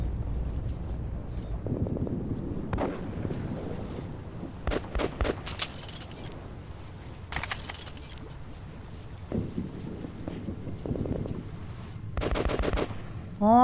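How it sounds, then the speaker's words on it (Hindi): Gunfire cracks out in Metro Exodus in scattered single shots and short rapid bursts, loud and close, separated by quieter stretches with faint rattling. "कौन फायर कर रहा है, कहां से?"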